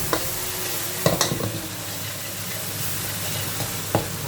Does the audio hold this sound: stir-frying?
yes